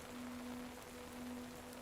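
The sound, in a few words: rain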